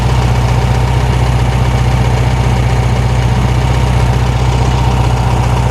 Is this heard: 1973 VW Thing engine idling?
yes